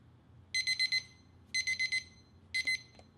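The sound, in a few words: ThermoPro TP20 meat thermometer countdown alarm beeping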